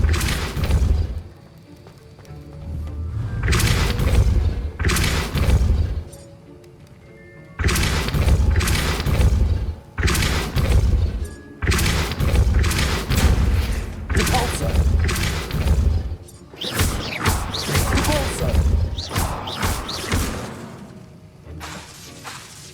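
Incendio and Confringo spell blasts from Hogwarts Legacy hit in repeated loud bursts, each a booming, shattering impact with whooshes, separated by short quieter gaps across the stretch.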